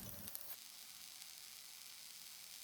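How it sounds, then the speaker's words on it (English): Eggplant frying in oil in a pan, a steady, hissing sizzle with a few brief crackles at the start, quiet and close with no voices. "Please try to grill the eggplant patiently. Cook it for about 10 minutes."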